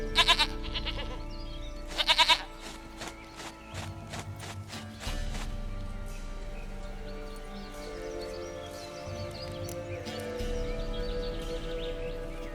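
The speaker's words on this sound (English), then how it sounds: "Goat of mine, dearest, sweetest goat." A goat in The Witcher 3 gives two short, wavering bleats near the start over a bed of game ambience, with faint hoof clops and a low musical hum continuing afterward.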